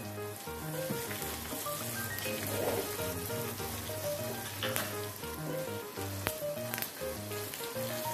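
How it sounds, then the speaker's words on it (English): Mustard seeds splutter in hot oil in a dhokla tempering, giving a steady, close crackling sizzle with dense pops that runs continuously under background music. "Once mustard starts spluttering, we will add asafoetida, 1 teaspoon."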